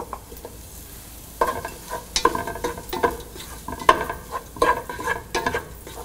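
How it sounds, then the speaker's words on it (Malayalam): Garam masala and tomato for aloo gobi sauté in a pan, a soft sizzle broken by irregular scraping stirs of a spoon against the pan, close and alone. "ഗരം മസാല എന്നിട്ട് വഴറ്റുക."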